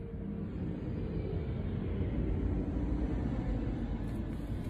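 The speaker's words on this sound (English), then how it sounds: "that airplane is flying over my head" An airplane flying overhead, heard as a steady broad rumbling roar that holds at an even level throughout, with no talk.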